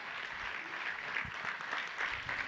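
A seated audience applauds named participants at a SEBI Mastermind session, with dense, continuous clapping at an even level throughout and no speech over it.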